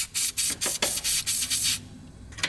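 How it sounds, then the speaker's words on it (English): Several short hissing bursts of an aerosol cleaner sprayed onto a corroded connector on an E34, in quick pulses and then one longer continuous blast, close to the mic. "I'm gonna spray some of this"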